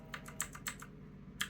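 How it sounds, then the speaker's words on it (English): Several quick, irregular clicks of keys being tapped on a computer keyboard used to control model trains such as a class 25 shunter, close and fairly quiet over a low steady hum. "Got to be a bit careful though using the keyboard"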